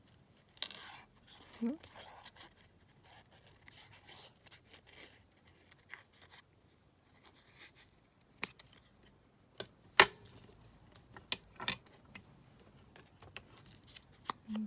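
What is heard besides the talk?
scissors cutting a paper rose stem off a collage sheet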